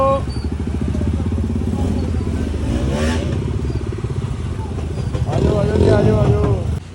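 A motorcycle engine idles and putters nearby, rumbling unevenly, with people talking over it and some clattering, amid crowds on a pilgrimage to Chintpurni.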